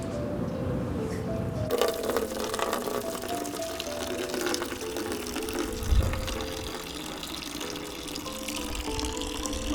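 Boiling water pours steadily onto dry ice with a bubbling, hissing rush and occasional cracks, continuous and close throughout.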